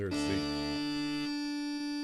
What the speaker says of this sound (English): That's the tenor drone.